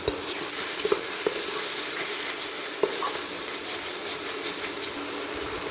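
Ginger garlic paste frying in oil in a pan for Indian egg rice, a soft continuous sizzle with a few light clicks of a spoon stirring, close but moderate in level.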